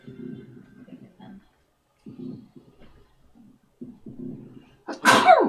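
A single sharp, loud sneeze bursts out near the end, following soft scattered talking.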